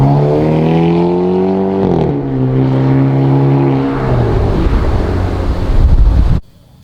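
A Hyundai i30N hot hatch with a 2-litre four-cylinder turbo engine drones loudly in steady harmonic tones. The pitch drops after a gear change, then gives way to rougher road and wind roar before cutting out abruptly.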